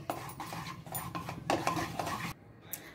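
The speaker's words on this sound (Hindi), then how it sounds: "बटर मेल्ट हो रहा है, इसी समय मैं गार्लिक डाल देती हूँ इसमें।" Garlic goes into melting butter in a pan, bringing close clinks of utensil on metal and stirring scrapes over a soft sizzle before the sound drops away.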